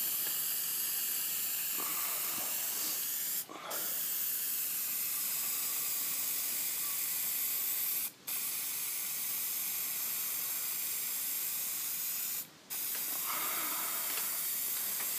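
A rattle can sprays paint onto a dry-sanded 2001 Audi A6 Quattro during rust repair, a long steady close hiss broken by three short pauses as the nozzle is released.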